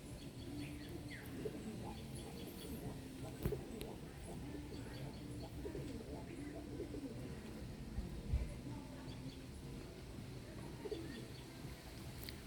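Pigeons coo in low, muffled murmurs across a quiet coop, with occasional chirps and a brief wing flutter, faint throughout.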